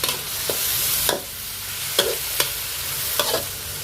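Pork pieces stir-fried in a wok for holy basil pork, with a steady frying hiss and several sharp scraping clatters of the spatula against the pan, close and alone.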